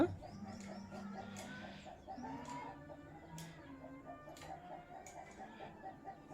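Four roosters cluck softly and repeatedly in the background, a low, murmuring run of calls with a few sharper notes.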